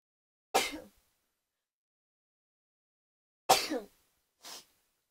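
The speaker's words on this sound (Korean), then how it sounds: "재채기" Two sharp sneezes several seconds apart, close and fairly loud, followed by a short breathy exhale in an otherwise quiet room.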